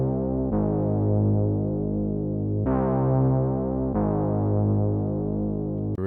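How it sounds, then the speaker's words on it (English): Very simple two-note bass line in a beat loop, a deep sustained tone switching between two pitches in long held notes, loud and steady with no talking. "One of the last things in this loop is just a super simple bass line,"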